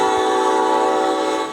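A military train convoy hauling gear rolls past, its horn sounding as a loud, sustained multi-tone blast that holds steady before fading at the end.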